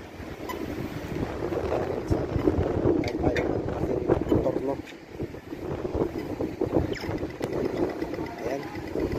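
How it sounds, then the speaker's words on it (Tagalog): Gusty wind buffets the microphone in loud, rumbling bursts, with faint talk underneath. "Mahangin ngayon, mahangin."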